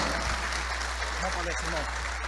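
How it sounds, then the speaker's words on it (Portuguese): Audience applause at a diesel vehicle technical seminar, a soft, steady clapping wash with a constant low hum, while a voice speaks briefly over it. "Eu queria muitas palmas para Edmilson Santana, agora aqui no palco."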